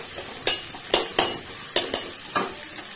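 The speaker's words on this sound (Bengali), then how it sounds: "এই যে সব পেঁয়াজ কুচিগুলো আমি দিয়ে দিলাম, দিয়ে এটাকে প্রথমে ভালো করে ভেজে নেব।" Chopped onions fry in a pan for veg Manchow soup: a soft background sizzle broken by about six sharp, irregular scrapes and clacks of a spatula stirring against the pan.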